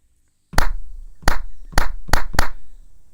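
Five sharp hand claps recorded through a microphone into an Ableton Move groovebox, close and loud, spaced unevenly over a few seconds after a brief silence.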